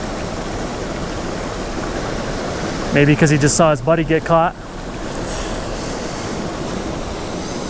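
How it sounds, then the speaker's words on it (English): A massive waterfall on a wild cutthroat trout stream gives off a steady, broad rushing roar that persists throughout, with someone speaking briefly over it near the middle. "we're approaching this massive waterfall, which I'm pretty excited to fish"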